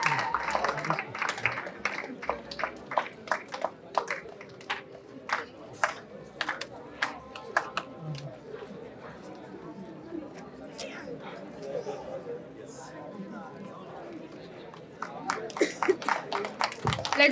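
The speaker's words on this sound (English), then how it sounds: "with a warm round of applause." Scattered claps at a Women's Day celebration at a college, sharp and uneven, mixed with crowd chatter and voices; clapping thins in the middle and picks up again toward the end.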